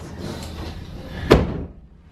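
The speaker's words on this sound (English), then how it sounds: "sliding doors." A sliding shower door in a cruise ship cabin on Navigator of the Seas rolls along its track amid background noise, ending in one sharp knock as it closes, then fades.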